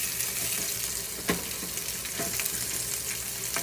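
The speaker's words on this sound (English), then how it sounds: "the sausages are cooking nicely" Sausages frying in a pan on a low flame give a steady close hiss and sizzle, with a few faint clicks and pops and no talking.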